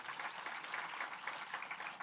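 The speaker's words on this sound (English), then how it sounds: "Can we have a round of applause for all these girls?" An audience at a university convocation ceremony claps for gold medal winners, a steady, dense patter of many hands sustained throughout, heard from a moderate distance.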